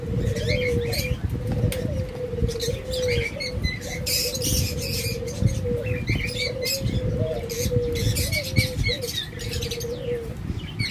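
A pair of white ring neck doves coo in repeated soft, low phrases, with busy chirping from other small caged birds around them.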